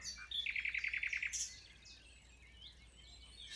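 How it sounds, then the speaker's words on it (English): A nightingale sings from brambles on a rewilded estate at dawn, a fast rhythmic run of repeated bright notes followed by softer trailing phrases, clear and fairly close over quiet background. "Let the nightingale have the last word for the moment."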